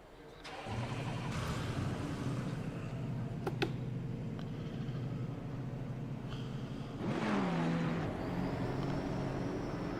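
GT racing car engines droning steadily at Misano in Assetto Corsa Competizione VR, a dense pack of cars running close together with an engine note rising near the end.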